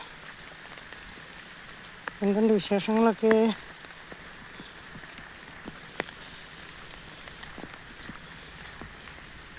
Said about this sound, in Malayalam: ഫുള്ള് മഴയാണ് ഇവിടെ